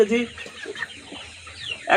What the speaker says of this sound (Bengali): এবার এটা যেটা দেওয়া হচ্ছে এটা মোরগ।